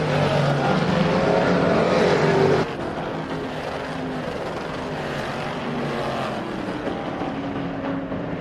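Race cars at a crate sportsman racing event roar past on an oval track. Loud, continuous engine drone is followed by a steadier, slightly quieter hum as the cars move on.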